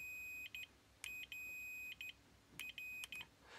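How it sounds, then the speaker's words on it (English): A Fluke 115 multimeter continuity buzzer gives short, high-pitched beeps in quick bursts of two or three, close and clear against a quiet background. "next we're going to check the continuity buzzer."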